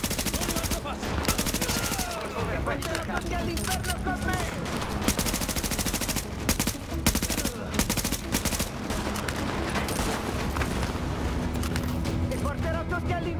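Rapid automatic gunfire from The Division, a PC shooter, bursts in dense repeated volleys with short gaps, loud and sustained, while a voice talks over parts of it.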